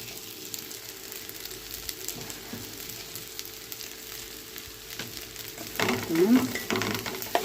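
White rice without vermicelli is stirred and fried in a pot with a pinch of salt. It makes a steady soft sizzle with scraping strokes of the spoon, growing louder near the end.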